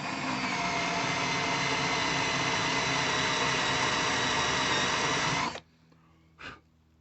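A cobalt countersink drill bit (Noir-Ti) cuts into a piece of scrap aluminum, giving a loud, steady whirring drone that stops abruptly, followed by near silence and one short faint noise.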